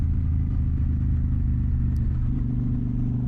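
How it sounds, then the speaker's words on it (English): A Honda Shadow motorcycle engine running steadily during a ride, a loud, continuous low rumble with a constant drone and no speech. "Honda Shadow is a fun bike,"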